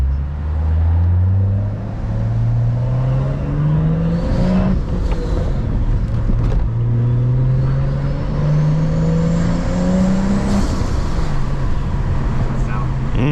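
A built BMW M235i with a six-speed manual and catless downpipe revs and pulls through the gears, its exhaust droning loud and close, with the pitch rising and falling in repeated sweeps.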